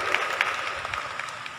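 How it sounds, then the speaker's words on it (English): An audience at an Independence Day school celebration claps steadily, a dense patter of many hands filling the short stretch without pause. "Let's give a round of applause to all of them."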